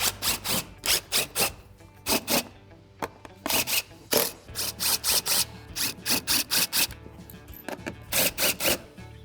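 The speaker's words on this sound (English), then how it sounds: "You remove these 4 screws to remove the factory intake lid" Screws being backed out of the factory intake lid on a Ford Bronco engine, heard as repeated short bursts of scraping, ratcheting sound in an irregular rhythm, fairly close and moderately loud, with no talking.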